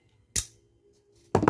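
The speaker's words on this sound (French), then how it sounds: "Donc je prends ma pince coupante. Je coupe pas beaucoup" Wire cutters snip bead keychain wire in two crisp, close cuts about a second apart, each a short sharp click in otherwise quiet surroundings.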